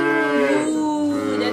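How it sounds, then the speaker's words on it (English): A cow gives one long, loud, droning moo with a strong harmonic tone, holding steady and then dipping slightly in pitch toward the end, heard alone and close. "Cows say moo."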